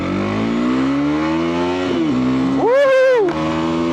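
A Mondial Piega 125cc motorcycle with 13 horsepower accelerates hard along a straight road. Its engine note climbs steadily, dips briefly at a gear change, then revs up again, loud and close.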